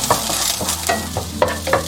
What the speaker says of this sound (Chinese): 我们再来一点点油，先下入葱白给它爆香